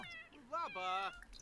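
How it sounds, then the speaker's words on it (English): Cat meowing in The Sims video game, a single drawn-out rising and falling meow, close and clear over quiet background sound. "It's a lazy cat."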